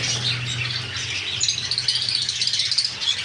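Pet birds in a shop, cockatiels, conures and Java sparrows among them, chirping and squawking in a dense, continuous chatter with a low hum underneath.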